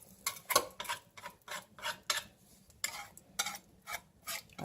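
Gravy for chicken fried steak whisked in a pan, a quick run of close, rhythmic metallic scraping and clicking strokes, steady and fairly soft, with no talking.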